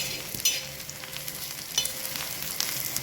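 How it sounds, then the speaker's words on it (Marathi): Onions frying in oil in a pan until brown, a soft continuous sizzle broken by a few sharp scrapes and clinks of a stirring spoon, heard alone. "कांदा चांगला तेलामध्ये ब्राऊन होईस्तोवर तळून घ्यायचा आहे आपल्याला।"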